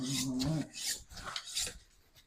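A fillet knife being sharpened for cutting fish skin gives a few rough rasping strokes, close and fairly quiet, spaced out in an uneven rhythm.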